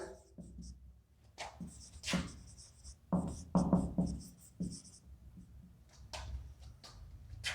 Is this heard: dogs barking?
no